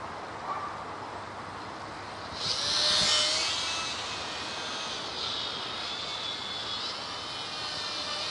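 A WLToys Cessna-182 F949 three-channel RC plane flies over a front yard, its small electric motor a steady whine that swells as it passes close around the third second, then settles into a fainter continuous buzz.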